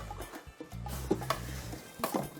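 Café de Paris sauce stirred in a pot, with soft scraping and knocks of the spoon against the pot in an uneven rhythm, close and quiet, with faint background noise.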